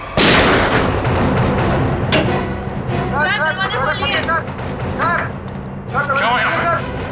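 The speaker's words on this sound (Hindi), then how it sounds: "अंदर से 2 गोलियां चली है" Gunfire in a tense crime-drama scene at a locked office, with a loud sharp report at the start followed by ongoing hubbub and voices over a noisy background.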